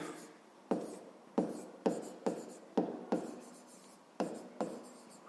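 A pen or chalk taps and scratches in a series of about nine short strokes while numbers are written out for a fifth-grade maths exercise, close and fairly quiet.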